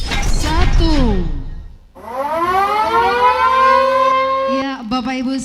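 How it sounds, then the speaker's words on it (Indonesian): A civil defense siren starts a provincial sports week opening ceremony, Porprov 2022 in Gorontalo, winding up to a loud sustained wail that holds steady before cutting off, with crowd noise at the start and end. "tombol sirine sudah ditekan."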